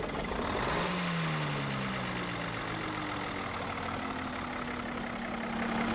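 A 1953 Peterbilt truck engine cranks over and catches, with a rising then falling drone that settles into a steady, rumbling idle, loud and close throughout.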